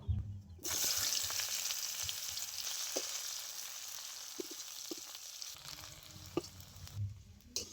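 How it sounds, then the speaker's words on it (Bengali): Chopped onion frying in hot oil with whole cumin and two cardamom pods, a continuous bright sizzle with occasional light stirring taps, near and steady, no voices. "পেঁয়াজটা ভালো করে লাল লাল করে ভেজে নিয়েছি"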